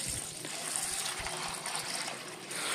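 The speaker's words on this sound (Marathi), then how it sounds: "2 ते 3 लिटर पाणी टाकणार आहे." Water pours into a kadai holding copper sulphate crystals, a brief, steady gushing splash close by with no talking.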